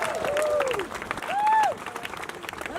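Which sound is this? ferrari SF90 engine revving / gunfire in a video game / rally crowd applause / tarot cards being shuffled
rally crowd applause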